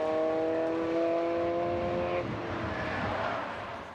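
VW Fun Cup race cars roaring off at a race start under sunshine, several engines droning together with a clear rising tonal whine that then fades into a rougher, more distant rumble.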